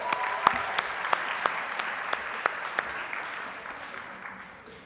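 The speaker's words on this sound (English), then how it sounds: "we can just give a round of applause for our entertainment for this" An audience at an evening awards ceremony applauds the entertainment with a steady wash of clapping. A few louder individual claps stand out before the applause slowly tapers off.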